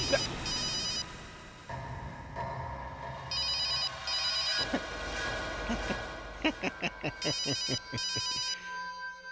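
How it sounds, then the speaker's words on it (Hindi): A telephone rings in repeated bursts of bright trilling bells, alternating with tonal music and a dramatic sting in a TV crime drama scene. "अभी 1 मिनट में फोन की रिंग बजेगी"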